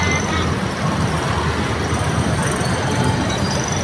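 An MRT commuter train rolls past at close range with a continuous rumbling roar, wheels grinding along the rails. Its clatter holds steady throughout, drowning out the street around it.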